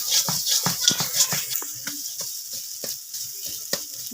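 Food sizzles in a karai while a utensil stirs and scrapes it in quick, irregular strokes against the pan, close and clear.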